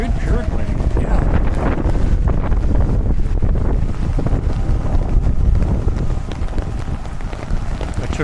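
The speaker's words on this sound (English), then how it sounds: "Ah, this is windy." Strong wind buffets the microphone in continuous loud, rumbling gusts that swell and ease, with faint speech partly buried beneath the roar.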